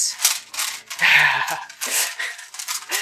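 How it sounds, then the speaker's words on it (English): Crinkly, crackling rustle of wrap or packaging being handled while apple pie pastry is made, coming in uneven bursts close by over about three seconds, with no talking. "So much crinkling, sorry."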